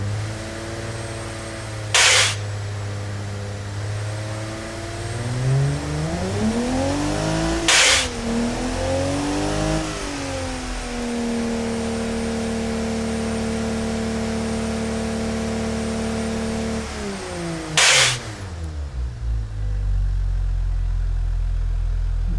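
A turbocharged, carburetted modern SUV engine in the BeamNG driving game revs up and down repeatedly, with rising and falling tones, steady loud drone and several short sharp bursts between the climbs.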